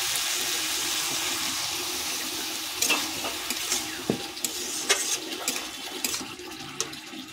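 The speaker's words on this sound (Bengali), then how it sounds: "ভালো করে কষিয়ে নেব।" Bhola fish curry with potato and tomato sautéed in a pan with red chili powder, a continuous sizzle and hiss under repeated clattering spoon scrapes that grow busier toward the end, close by with no talk.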